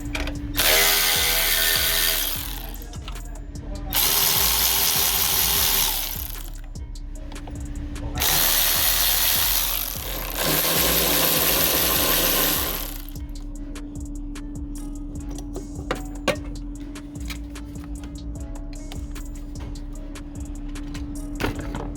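A ratchet wrench undoing the battery bolts on a Nissan Qashqai, heard as three loud bursts of rapid ratcheting clicks separated by short pauses, followed by quieter handling noises and a steady hum, with no talking.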